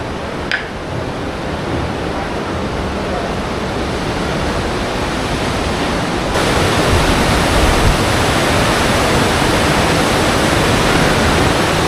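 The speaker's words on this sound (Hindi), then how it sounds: "नीचे की तरफ से बह रही है नदी और साथ में धुआं भी उठ रहा है।" A river near the Manikaran hot springs rushes loudly and steadily, a dense unbroken roar of flowing water.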